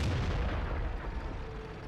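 A tank cannon fires in World of Tanks, a single heavy boom with a rolling rumble that trails off over about two seconds, loud and close with no talking.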